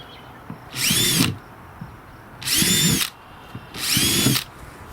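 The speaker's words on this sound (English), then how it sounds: "You just need somebody with a drill." A power drill whirs in three separate bursts into a bucket, each about a second long, with quiet gaps between them; the whine is loud and close.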